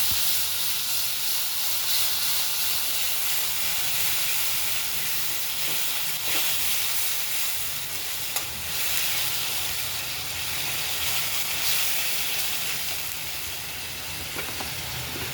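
Onion frying in hot oil for a soya curry, a steady loud sizzling hiss that runs without pause, with faint stirring scrapes now and then.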